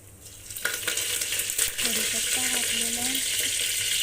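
Cumin seeds hit hot oil in a heated pressure cooker and set off a sudden crackling sizzle that settles into a steady, close hiss, with a voice speaking briefly underneath.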